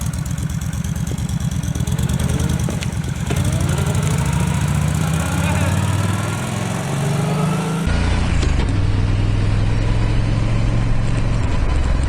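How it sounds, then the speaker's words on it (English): Car engine running with a steady low rumble and a harmonic drone whose pitch rises, then shifts after a sharp gear change, the gearbox giving a clunky engagement; close and fairly loud, with no talk. "that gearbox is clunky"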